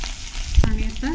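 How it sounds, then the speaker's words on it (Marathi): Mustard seeds, cumin and chilli sizzle in hot oil in a pan as a steady close frying hiss, with one sharp pop or spatter near the middle. "आधी मोहरी घालूया आणि मोहरी तडतडली की मग जिरं आणि लगेच मिरची"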